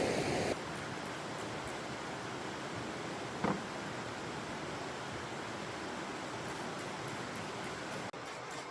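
Steady rushing river water runs continuously while dishes are rinsed outdoors in the woods, a soft broadband wash with a brief clink partway through.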